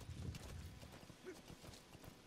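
A horse's hooves clip-clop across rocky ground in Metal Gear Solid V, a quick rhythmic beat of fairly faint strikes running throughout.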